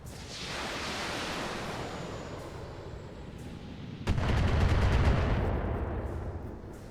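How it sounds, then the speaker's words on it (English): Mechs fire missile volleys in the BattleTech video game, a loud roaring barrage of whooshing launches that surges sharply about two-thirds of the way through and keeps rumbling to the end, with no voices. "Stop it with the missiles."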